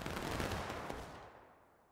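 A musket volley crackles in the Civil War video game War of Rights, a dense burst of overlapping gunfire that rolls for about a second before trailing off into an echoing tail.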